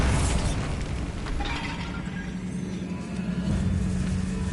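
A Bombarda blasting spell in Hogwarts Legacy: a loud, continuous roaring burst of explosive rumble and crackling debris that fills the whole short moment without letting up.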